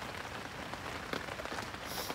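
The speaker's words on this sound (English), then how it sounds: "Still raining." Steady rain patters on a winter overnight shelter in heavy rain, a dense continuous hiss of drops close by with no voices.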